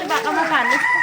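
A rooster crows among farm chickens, one loud, close, drawn-out crow lasting about a second.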